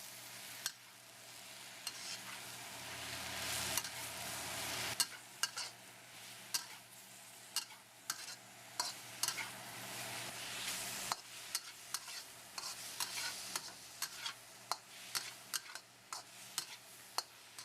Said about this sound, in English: Cooking and stirring for 2 to 3 minutes, or until the mushrooms release their moisture and become tender.